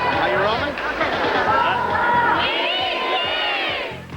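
A crowd at a film screening, led in a cheer by an actor and his wife, shouts and cheers loudly and continuously in a dense mass of voices.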